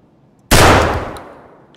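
A single sharp gunshot in a shooter video game, a sudden loud burst followed by a long fading echo, heard alone without talk.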